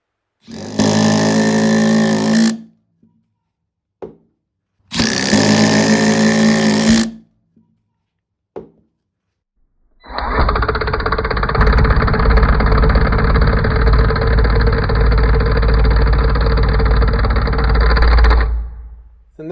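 A Milwaukee M12 Fuel Surge impact driver drives a 4-inch screw, first in two short loud whirring bursts, then in a long, steady, buzzing hydraulic drive of about eight seconds, close up.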